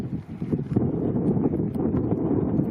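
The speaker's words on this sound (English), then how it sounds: "It's pretty windy up here and cold." Steady, gusty, cold wind buffets the microphone on a mountain pass at about 8,500 feet in Banff, with a low, rough rumble and no voices.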